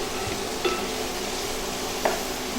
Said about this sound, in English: So I'll just let the spices cook a little bit.